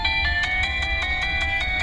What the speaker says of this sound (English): that is a garbage phone call